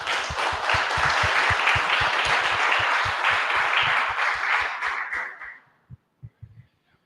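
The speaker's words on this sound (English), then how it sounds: "A round of applause," Audience applause at the close of a conference talk comparing Plone and Drupal editing, dense and sustained for about five seconds before fading into a few scattered final claps.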